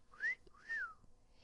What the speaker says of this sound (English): Holmes whistled.